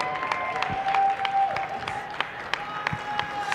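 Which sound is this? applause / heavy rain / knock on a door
applause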